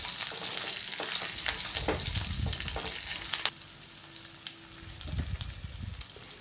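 Dried red chillies and curry leaves crackle and sizzle in hot oil in a pan, a steady broadband frying hiss with scraping stir strokes, louder at first and easing after a few seconds, with no voices.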